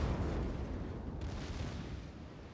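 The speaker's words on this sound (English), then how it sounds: "he's firing HE at me too" High-explosive shells from a warship in World of Warships land around the player's ship: a loud, rumbling blast that decays into a long, dense roar, fading gradually with no talk over it.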